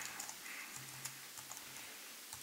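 Typing on a computer keyboard to run a Python script gives a few soft, scattered key clicks over a quiet background hum, with no talking.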